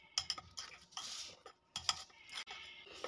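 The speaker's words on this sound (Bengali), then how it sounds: "ইনোটা দেওয়ার পরে খুব ভালো করে আবারও মিশিয়ে নেব" A spoon stirs biscuit cake batter in a bowl after Eno is added, quick clinking scrapes in two short bursts separated by a brief pause, close and fairly quiet, with no talking.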